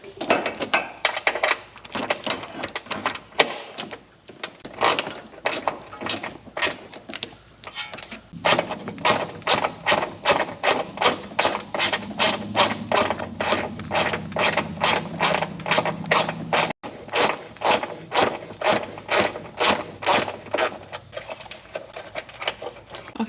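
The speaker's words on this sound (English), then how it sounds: "I'm going to be taking out this bolt right here that holds the power steering lines on." Ratchet removing the power steering line bolt on a Nissan 370Z, a long run of rapid, even, close clicks in steady bursts with brief pauses, loud and clear, with no talking.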